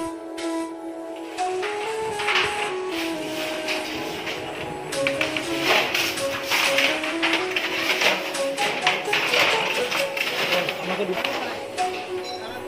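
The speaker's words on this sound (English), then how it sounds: "One can continuously hear the rhythmic click-clack of the traditional throw shuttle room." Rhythmic wooden click-clack of a traditional throw-shuttle handloom weaving Muga silk in Sualkuchi, Assam, repeating steadily, with a voice speaking over it throughout.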